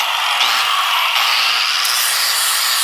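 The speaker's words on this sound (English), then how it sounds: "So I'm gonna go get the flap disc, clean this up because that's how I do it." Flap disc grinding metal clean on a Mercedes-Benz G-Wagon body, a loud, continuous harsh abrasive whir with slight changes in pitch, close and alone.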